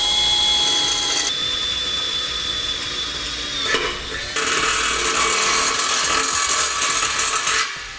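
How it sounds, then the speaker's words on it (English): A power drill enlarges holes in a steel winch mount on a 2018 Honda, a loud continuous metallic grinding whine that drops briefly near the middle, then resumes rougher and harsher until it winds down at the end, with no speech. "We're just going to go ahead and use some drill bits"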